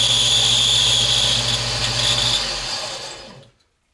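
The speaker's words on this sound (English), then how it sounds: "We'll just sand it and make it nice." A wooden Pinewood Derby car is sanded with a steady, close, whining rasp for about three seconds before the sound fades and stops abruptly.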